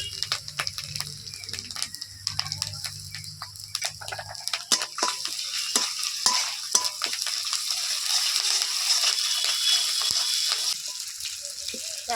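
Ginger, garlic and onion stirred and fried in a pan, a crackling sizzle that builds after a quieter start, with frequent sharp clicks and scrapes of the utensil throughout.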